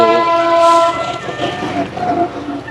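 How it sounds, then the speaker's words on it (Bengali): A train approaching near a railway station in Barishal, sounding loud and close with a blaring horn at the start, then a rumbling roll of wheels and clatter, no talking. "এই যে ট্রেন আসছে"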